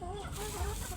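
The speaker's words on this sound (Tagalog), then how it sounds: "Pati po dito sa isa nating manok na si Cobra." A chicken clucks close by in short repeated notes, fairly quiet, with some low background noise.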